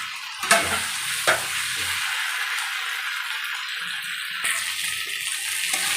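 Fried potato and cauliflower get stirred into sizzling spice paste for a rohu fish curry with cauliflower and potato, giving a continuous close frying hiss broken by a few scraping knocks of the spoon; no talking.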